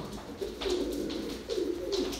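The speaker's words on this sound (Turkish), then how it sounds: "Ama yine bayağı kuş var ya Muhammed." Pigeons coo in a coop, several soft rolling calls repeating close by in a steady rhythm, with no talk.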